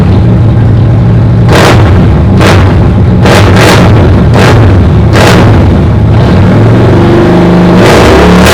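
An American-made two-wheeled motorcycle engine revs loudly and close, with a rumbling idle broken by about seven sharp throttle blips and pops in an uneven rhythm.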